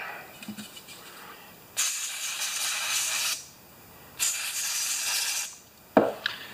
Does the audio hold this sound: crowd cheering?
no